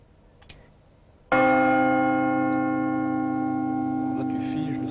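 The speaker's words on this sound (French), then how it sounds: "Il s'agit de la cloche grave de la cathédrale de Winchester." A single strike of the low bell of Winchester Cathedral rings out loud and close after a brief quiet, then sustains a rich, steady hum that fades slowly, with faint voices near the end.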